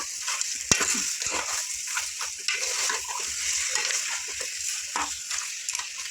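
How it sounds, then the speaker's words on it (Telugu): Goat head curry fries in oil in the Andhra style. The sizzle runs steadily throughout while a spoon scrapes and clatters against the pan in irregular strokes, close and moderately loud. "కొంచెం ఇట్లా నూనె వేగనేయండి ఇవ్వండి కొంచెం ఇట్లా కలుపుకుంటా ఉండండి"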